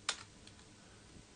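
A single crisp keystroke clicks on a computer keyboard, close and fairly quiet, followed by faint room hush.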